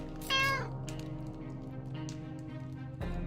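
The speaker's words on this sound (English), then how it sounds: "I got a cat." A cat meows in the survival video game 60 Seconds, a single clear rising meow followed by a softer second call near the end.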